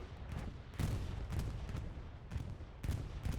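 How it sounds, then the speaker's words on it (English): Bombing run explosions in the video game Hell Let Loose, several distant booming blasts arriving at irregular intervals over a low rumble of battle, loud thuds spaced about a second apart. "There's another bombing run."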